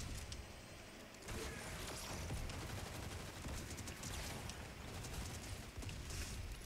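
A pumpkin launcher fires in Fortnite, its rocket-like shots and blasts forming a dense, loud, continuous barrage of booming explosions and crackling impacts for the whole stretch.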